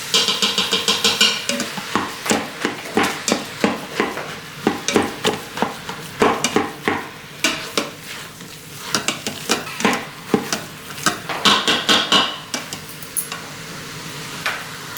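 Ground turkey for chili cooks in a pan with a steady sizzle, broken up by a quick, rhythmic series of utensil scrapes and taps against the pan, close and fairly loud.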